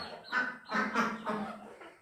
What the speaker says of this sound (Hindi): यहाँ पे देखो ये मुर्गी है ना